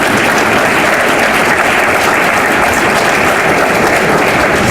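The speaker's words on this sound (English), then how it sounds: "And yes, you can clap for that." Loud, dense audience applause at a county government State of the County address, a steady wash of many hands clapping throughout with no break.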